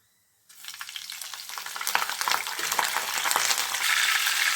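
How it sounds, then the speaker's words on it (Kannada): Spices hit hot oil for tempering, starting from silence into a sudden crackling sizzle that builds louder and denser over a few seconds, close and without talk. "ಇವಾಗ ಬನ್ನಿ ಮೊದಲು ಒಗ್ಗರಣೆ ಮಾಡ್ಕೊಳ್ಳೋಣ"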